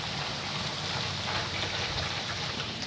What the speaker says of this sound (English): No, it's raining too hard.